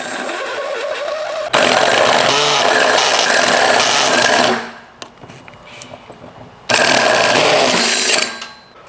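A loud, harsh grinding drill bores through metal of a Sports Imports portable volleyball net system, with water added, in two long bursts, dropping to a low rattling hum in the gap between them.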